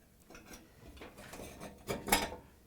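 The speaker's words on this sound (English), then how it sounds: "push down on the top to lock the clips" Several faint plastic clicks and snaps, with a sharper cluster near the end, as GE electrode clips WB01K10112 are pushed down and locked into place on a gas cooktop burner assembly.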